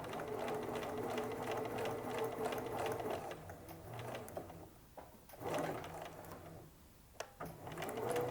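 Sewing machine stitching the lining at a skirt slit, running in fast bursts with brief pauses and slowdowns, mechanical whirring and clicking close by, fairly quiet, no talking.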